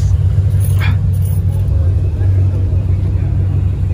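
Mustang GT500 at a large car cruise event, engine idling loudly with a deep rumble and a brief rev, heard close up under talk.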